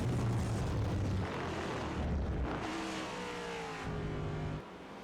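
NASCAR race car in the iRacing game lapping Circuit of the Americas on the front straightaway: a loud, steady engine roar with rising pitch sweeps as it accelerates, alone with no talk.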